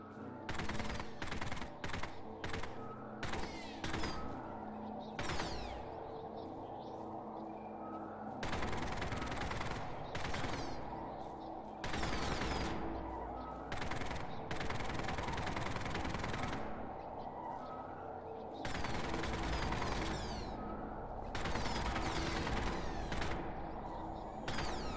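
Rapid gunfire from the player's weapons in the 1997 game Postal comes in repeated bursts, some short volleys and some long sustained rattles, loud and up close.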